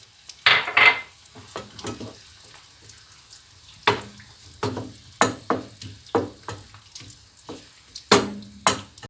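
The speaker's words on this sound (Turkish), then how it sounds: "Domates salçamızı biber salçamızı ilave edip güzelce kavuruyoruz." Tomato and pepper paste sautéed in a pan, with repeated spoon scrapes and stirring clatter in irregular bursts over a faint background hiss, close by and without talking.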